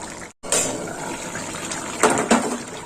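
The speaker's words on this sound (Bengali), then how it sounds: "চিংড়ি মাছ দেওয়ার পর একটু ফুটিয়ে নেব চাপা দিয়ে দিলাম" Prawn curry with three kinds of vegetables bubbling under a lid in a covered pan, a steady watery simmer with a brief cut near the start and a couple of louder surges of liquid toward the end.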